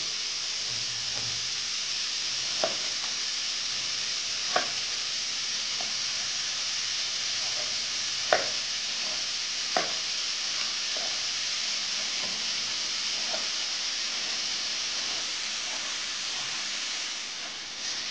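Onion frying in a pan over fairly high heat, a continuous loud hiss and sizzle with a few sharp pops and crackles scattered throughout.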